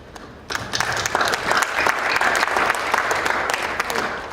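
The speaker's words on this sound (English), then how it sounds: "So please give your applause" Applause starts abruptly and keeps going, a dense patter of many hands clapping at an even level until the end.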